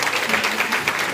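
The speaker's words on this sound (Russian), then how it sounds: "Аплодисменты, друзья." Brief burst of dense audience applause at the final of a radio show contest, loud and continuous, with no voices over it.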